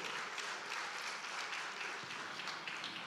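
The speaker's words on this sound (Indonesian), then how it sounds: "Sekali lagi tepuk tangan untuk Genbi 2021" Audience applause at a Generasi Baru Indonesia (GenBI) 2021 leadership practice event, a steady, dense wash of many hands clapping at moderate loudness throughout, with no talk over it.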